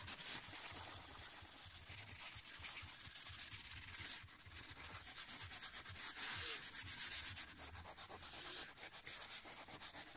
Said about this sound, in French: on va utiliser un mouchoir. On va faire la technique de essuyer